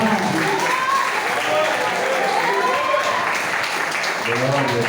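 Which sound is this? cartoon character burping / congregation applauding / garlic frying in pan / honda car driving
congregation applauding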